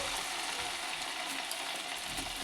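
Corn vadas made from maize batter deep-fry in hot oil, a dense and even sizzle with crackling bubbles. It is heard close and continuous, with no voices.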